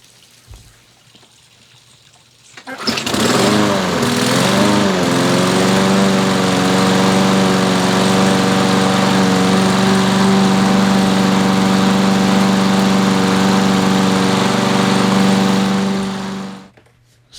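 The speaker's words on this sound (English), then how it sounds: "Decibels 25 feet away from the Yard Machine's 158cc lawnmower." A Yard Machine 158cc gas lawn mower starts up after a quiet moment and runs at a steady loud drone, heard from about 25 feet away, before cutting off near the end.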